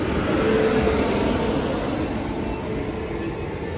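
The Darbhanga Sabarmati Express rumbles into a station, its railcars producing a steady loud roar of wheels on the track with a faint squeal, heard close by with no talk.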